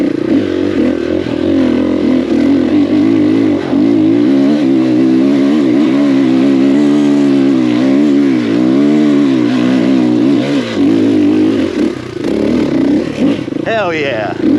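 A KTM 500EXC-F single-cylinder dirt bike with shorty extensions pulls hard, its loud engine tone climbing and dipping through the gears from close by, with a rider's voice briefly audible over the engine.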